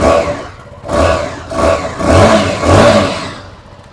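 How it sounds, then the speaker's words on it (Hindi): A 2024 Keeway K300R motorcycle's engine is revved hard about four times in quick succession, each loud, close exhaust burst swelling and falling back, with a grunty, crisp tone and no talking. "काफ़ी एक जो है ग्रंटी साउंड है यार काफ़ी एक अच्छा साउंड है एग्जॉस्ट साउंड काफ़ी क्रिस्प है"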